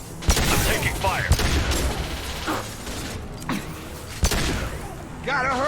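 Gunfire in a firefight in the video game Mass Effect 2: several sharp shots and bursts spread across the moment, with shouted voices between them.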